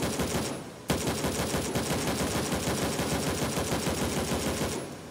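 A video-game gun empties an entire magazine in one loud, unbroken stream of rapid automatic fire lasting about four seconds, then cuts off abruptly, with no voices over it.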